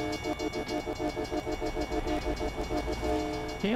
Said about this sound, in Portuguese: O trem vem em alta velocidade